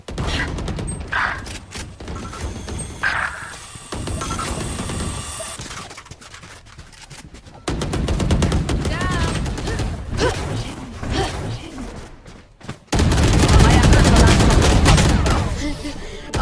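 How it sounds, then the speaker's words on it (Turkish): Rapid bursts of gunfire and automatic weapon fire from the tactical shooter Valorant rattle loudly through the whole stretch, layered with game effects and brief talk. "Evet silah seslerini duydum."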